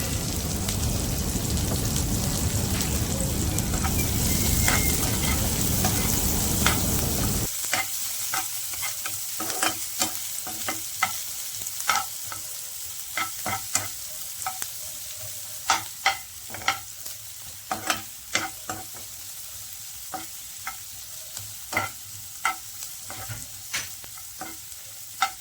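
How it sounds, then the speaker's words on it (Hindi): Onions and green chillies fry in a hot pan for a masala dish, a loud steady sizzle for several seconds, then quieter frying cut by repeated sharp clicks and scrapes of a utensil stirring against the pan. "ऑनियन को अच्छी तरह से फ्राई करेंगे। और थोड़ा 2 ग्रीन चिल्ली डाल देंगे।"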